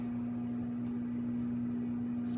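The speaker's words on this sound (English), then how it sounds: "And you're putting it in the microwave." A microwave oven warming food runs with a steady low electrical hum and a faint whirring drone. The sound stays constant throughout the short stretch with no talk.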